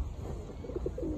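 Pigeons coo softly at Raphael Park in Romford, a few low throaty notes over a steady background rumble.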